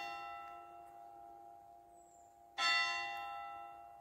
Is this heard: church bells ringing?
yes